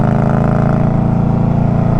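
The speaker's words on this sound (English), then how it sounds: "I replaced my Hacker Mayhem with a Dirty Bird Racing exhaust" A motorcycle fitted with a Dirty Bird Racing exhaust, which replaced a Hacker Mayhem, idles at a loud, steady low rumble, close and constant for the whole stretch with no voices.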